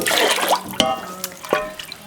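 Water poured into a pot for a sauce in a home kitchen, a brief splashing pour with a few clinks and drips, close and fairly quiet.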